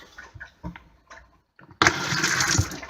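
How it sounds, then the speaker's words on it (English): A Whale Watermaster FP0184 water pump motor on a boat starts abruptly after some quiet clicks and handling noises, then runs loud and steady, building up pressure close by. "Now the motor's got up to pressure and it's cut itself off"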